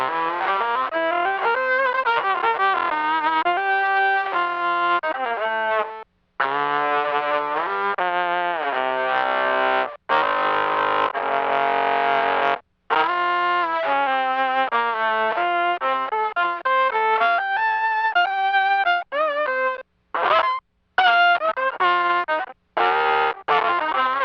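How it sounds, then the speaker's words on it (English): A violin run through heavy sub-octave, upper-octave and square-wave distortion on an Electro-Harmonix Micro Synthesizer, producing a buzzy, thick synth-like tone with brief pauses between phrases. "the dry signal of the instrument plus the sub-octave, the upper octave, and the square wave distortion sound"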